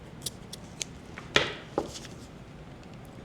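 Scissors snip jute twine at a craft table: a couple of sharp metallic clicks among small faint handling taps in a quiet room.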